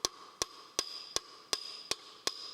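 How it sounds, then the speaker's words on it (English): Soft hammer knocking a bearing out of a Formula Ford VanDiemen RF-85 during a strip-down: seven sharp, evenly spaced metallic taps about every 0.4 seconds, each leaving a short ringing tone, close and alone. "I'm going to knock it out gently"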